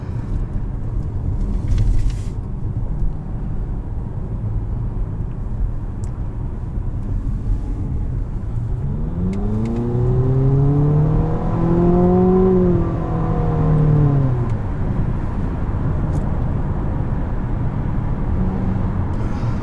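A 2019 Infiniti QX50's turbocharged four-cylinder engine hums steadily in the cabin, then accelerates through rising and falling revs across several gear shifts before settling back to a steady drone.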